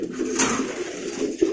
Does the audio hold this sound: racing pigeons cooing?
yes